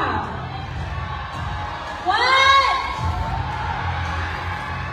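A Miss Global pageant crowd at a crowning event screams, whoops and cheers, with a loud swell of shrieking voices rising briefly amid steady crowd noise and a host's voice.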